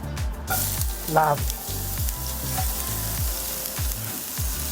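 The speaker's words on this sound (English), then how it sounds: "into the pan, which is lovely and hot, we can now add in our onions" Onions sizzle and fry loudly in a hot pan for butter chicken curry, with a continuous close crackle, repeated stirring scrapes and a voice speaking briefly over it.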